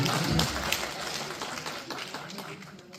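Audience applause for the chemistry department at an Uttarakhand cultural program held at the IISc Challakere campus, a steady, fairly faint wash of clapping that slowly tapers off.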